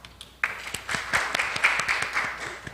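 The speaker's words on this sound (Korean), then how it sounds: "큰 박수로 맞이하여 주시기 바랍니다." Audience applause greets the chair of a data journalism conference session, a light patter of clapping that starts abruptly and continues evenly for a couple of seconds at moderate volume.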